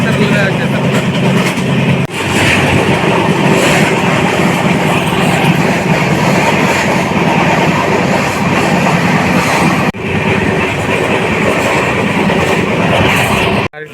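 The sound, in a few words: Udhna to Jaynagar special train running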